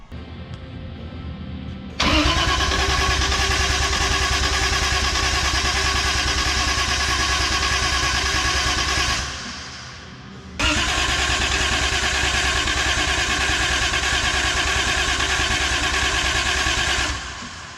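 A BMW E36 fitted with a 1JZ engine cranks and catches into a loud, steady idle, dips briefly as if stalling, then fires again and holds a strong, close, continuous drone.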